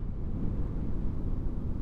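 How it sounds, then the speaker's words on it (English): Steady, heavy wind roaring and buffeting a microphone, a dense low rumble that stays constant throughout with no voices. "It is windy, very windy."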